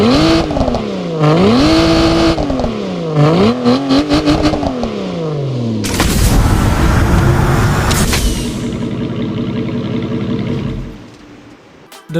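A 2022 Aston Martin V12 Vantage with a 5.2-liter twin-turbo V12 in a Need for Speed game, close and loud, rising through several gears with sharp shifts, then a hard roaring burst and a fading drone, with no talking.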